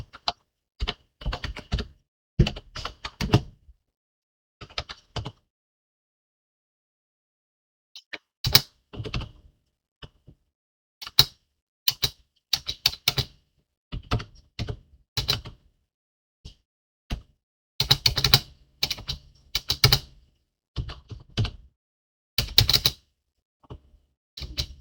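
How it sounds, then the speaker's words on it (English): Bursts of clattering keyboard typing, close and fairly loud, separated by short pauses of silence. "sorry about my typing"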